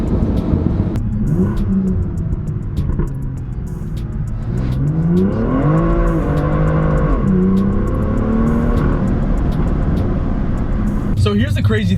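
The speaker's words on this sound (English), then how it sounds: "The cracks, the pops, they're so much louder." Tuned BMW M2 with a stage 2 Bootmod3 tune revving loudly, its exhaust rising and falling in sustained pulls, with a sharp burst near the end, and a voice talking over the engine throughout.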